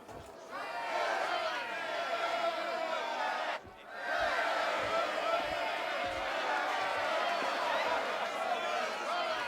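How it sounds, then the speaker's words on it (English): Arena crowd in the ancient Greek video game Assassin's Creed Odyssey roaring and cheering steadily, with a brief dip in the middle and low thuds underneath. "Enjoy the crowd's reaction"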